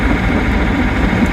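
A sailboat's auxiliary engine motoring steadily in calm, windless conditions off the coast, a constant low drone and vibration, close and unbroken, with no speech.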